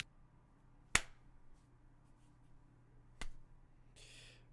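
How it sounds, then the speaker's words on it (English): A reverse clap made by slapping the backs of the palms together, two sharp isolated smacks a couple of seconds apart, close and fairly quiet, followed by a brief soft rustle. "I just put my palms on the backside and slapped them together"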